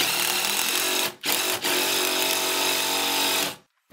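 A power drill drives a lag bolt to mount a grab bar in a fiberglass shower, a loud continuous whirring motor with two brief pauses before it stops.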